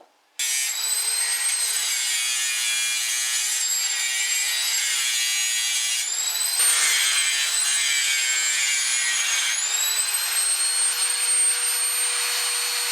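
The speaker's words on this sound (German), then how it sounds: "Die restlichen Einpressungen machen wir jetzt mit der Flex weg." Angle grinder cutting into a late Porsche 944 shock absorber housing, a loud, continuous high-pitched metallic whine that starts abruptly and holds steady with slight pitch shifts as the disc bites.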